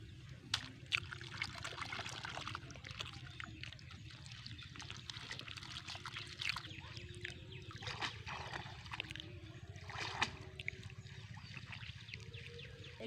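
Snails being washed by hand in water: quiet, close trickling and light splashing with small irregular sloshes, no talking.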